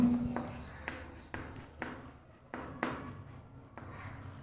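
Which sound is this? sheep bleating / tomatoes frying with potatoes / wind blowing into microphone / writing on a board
writing on a board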